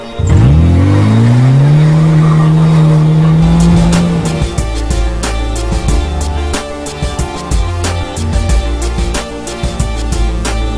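A Lada 2114 drives in a TV advert: the engine revs up in a rising whine and holds a strained, sustained pitch, then gives way to a run of sharp clattering knocks and bangs.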